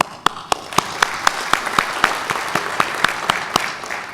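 Conference attendees at an ARIN public policy meeting applaud, a steady wash of many hands with several crisp nearby claps repeating at a regular pace.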